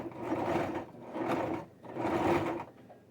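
A home sewing machine, run by foot pedal, stitches a zigzag seam on a fabric face and neck warmer: two sustained whirring bursts with a brief pause between, close and moderately quiet.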